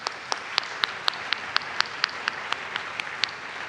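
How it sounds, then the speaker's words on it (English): Audience applause at a university summer music camp band concert, thanking the camp staff; a fairly quiet, steady patter of clapping with a few sharper individual claps standing out at a regular pace. "round of applause, please."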